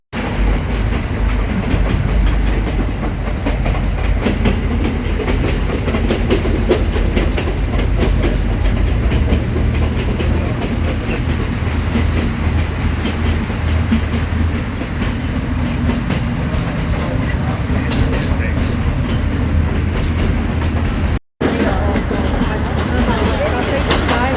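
A train to Aguas Calientes near Machu Picchu, Peru, rumbles steadily along the rails for a long stretch, with clattering and a constant loud roar, briefly cutting out near the end.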